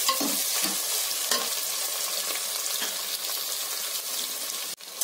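Onions and green chillies fry in a pan on a home stove, giving a steady, loud, close sizzle that runs throughout, with a few soft stirring scrapes and a brief drop near the end.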